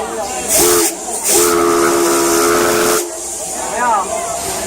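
CK124 steam locomotive whistle sounds in short, loud blasts over a constant hiss of escaping steam, two sustained whistle tones up close, followed by a softer rising whistle as steam keeps venting.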